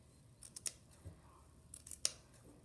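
Scissors snip through felt loops for a flower headband: a few quiet, crisp cuts in two small clusters, close and isolated.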